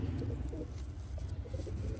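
Sialkoti Ali wale pigeons give low, steady cooing that carries on continuously at close range, forming a soft murmuring rumble with no voices present.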